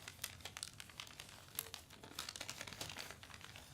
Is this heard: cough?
no